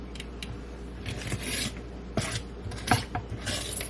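Utensils scraping out a bowl during baking, producing repeated rough rasping strokes at close range, irregular in rhythm with short pauses between them.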